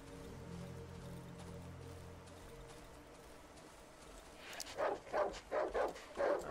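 Dog barking in the horror game Darkwood, a run of five or six sharp, fairly loud barks arriving close together near the end after a quieter stretch of low ambient drone.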